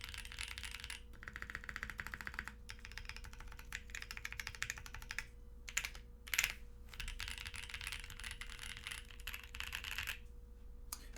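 Steady, rapid clacky keystrokes on a custom-built 75% mechanical keyboard fitted with lubed, tape-modded U4T switches on stock springs, typed close up and continuously with brief pauses, no voices.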